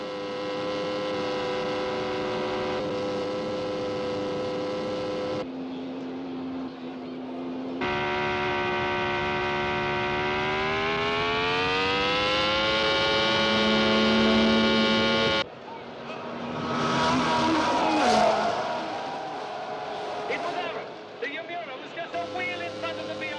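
Mid-1960s Formula One race cars, including a BRM, Euromura and Yamura, scream toward the finish line. A loud, sustained engine whine climbs steadily in pitch, then breaks into a rougher roar as the cars pass.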